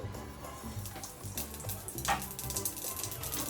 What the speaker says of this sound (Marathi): मोहरी छान तडकायला लागली